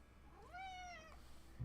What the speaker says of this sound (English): He's meowing at me.